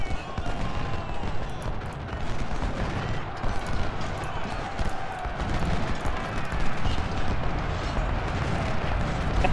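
Musket gunfire in a Civil War battle in the video game Ultimate General: Civil War, a dense, continuous crackle of overlapping shots and volleys at moderate loudness, with voices talking over it.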